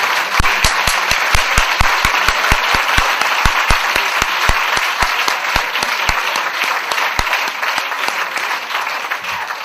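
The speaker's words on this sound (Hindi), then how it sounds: "आप सभी विमोचन कर रहे हैं तालियों के द्वारा" Audience applause at a book-release event honouring Gulzar, with sharp individual claps standing out over a dense, steady crowd clapping that stays loud and continuous throughout.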